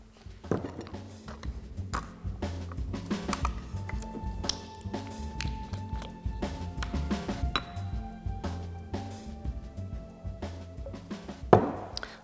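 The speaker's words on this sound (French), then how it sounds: "je verse la glycérine dans ma pâte, toujours à l'aide de mon fouet qui est bien pratique pour touiller cette préparation" A whisk clinks against a bowl while stirring vegetable glycerine into a thick homemade natural toothpaste paste, giving a steady run of light metallic taps and scrapes, close by, with one sharper clatter near the end and no speech.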